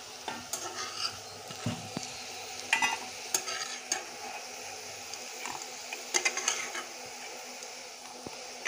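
Potatoes frying in oil in a pan in a home kitchen, a soft continuous sizzle broken by scattered stirring clicks and scrapes, quiet and steady without talk.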